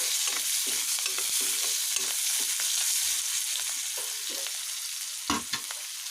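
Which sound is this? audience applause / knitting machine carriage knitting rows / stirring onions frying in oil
stirring onions frying in oil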